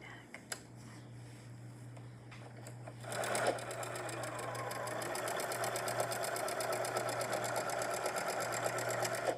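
A Janome sewing machine quilting stitch lines on a patchwork tote, its steady rapid needle chatter starting after a few quiet seconds with small clicks and running on continuously, close and fairly loud, with a low hum beneath.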